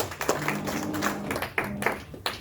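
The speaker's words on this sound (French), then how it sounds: "Alors il faut l'applaudir" Scattered applause from a small audience at a private evening magic show, a handful of distinct claps and brief bursts rather than a full ovation, fairly close and moderately loud.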